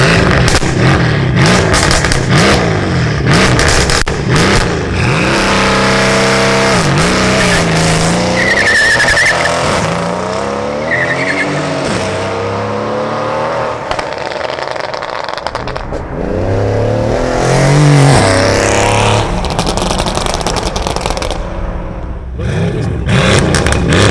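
A Mercedes C63 S AMG biturbo tuned to 700 wheel horsepower, with an Inotec downpipe and a full titanium Akrapovic exhaust, roars loudly and continuously around a track day circuit, climbing and dropping through gear changes with tire squeal near the end.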